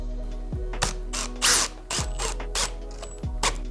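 Power drill driving screws into a wooden roof panel, several short whirring bursts with ratcheting clicks and brief pauses between, close and clear with no talk.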